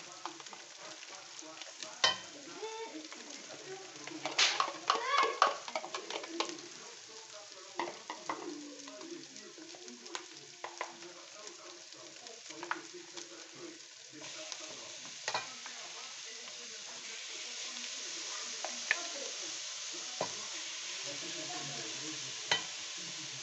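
Garlic and onion sizzle in a hot pan over a browned crust while a utensil stirs and scrapes at intervals, the frying close and steady with clattering bursts of stirring.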